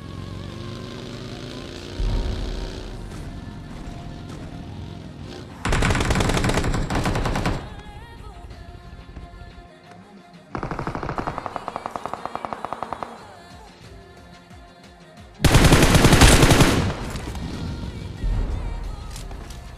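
Automatic gunfire from the BGMI battle royale game, arriving in three loud sustained bursts with quieter game ambience and engine rumble between them.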